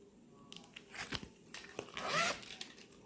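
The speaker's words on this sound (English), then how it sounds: "And it is a pouch, a zipper pouch." A zipper pouch opened by hand, with short rasping zip pulls and fabric rustling, fairly close and quiet, with no talk.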